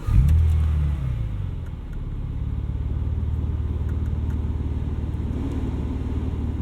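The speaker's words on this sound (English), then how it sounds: "let's listen to the startup" A 2004 Porsche 911 Turbo X50 with a Fabspeed exhaust cranks and fires with a loud burst, then settles into a deep, steady rumbling idle close by.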